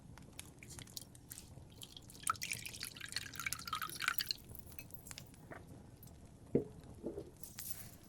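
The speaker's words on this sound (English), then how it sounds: "Just put the fresh well water in here." Fresh well water is poured into a small bowl in a quiet tavern setting, with soft close trickling and dripping, a few brighter splashes and a distinct drip near the end, with no talking.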